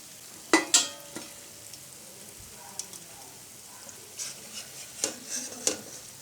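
Rice-flour ros puli pitha dumplings frying in a wok, heard as a faint, sparse sizzle broken by a few sharp clinks and scrapes of a utensil against the pan.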